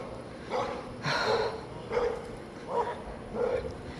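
Akita across the street barking in a yard, four or five separate barks at an irregular pace, fairly near and moderately loud with no talking.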